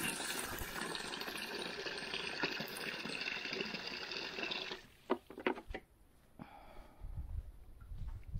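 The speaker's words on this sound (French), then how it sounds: "deuxième rinçage, pour que ce soit un vrai rinçage" Tap water runs steadily and loudly for a second rinse while cleaning up in a small family dog-breeding kennel, then cuts off into a few clinks and knocks before a brief gush returns near the end.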